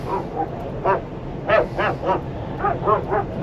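A dog barks repeatedly beside a road in Jordan, between Petra and Jerash, with goats being herded across. The sharp barks come in irregular bursts over a constant low rumble of a nearby vehicle.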